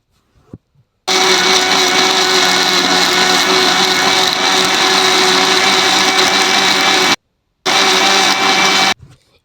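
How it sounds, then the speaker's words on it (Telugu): A kitchen mixie grinder whirs loudly and steadily while blending onion paste for mutton curry, running for about six seconds, stopping briefly, then starting again for another burst. "మనమైతే మిక్సీ అయితే పట్టుకుందాము"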